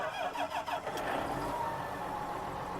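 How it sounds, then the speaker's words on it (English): John Deere tractor engine in Farming Simulator 19, starting with a brief cranking rattle and then settling into a steady, loud mid-pitched drone. "It sounds just like that John Deere tractor that I use all the time."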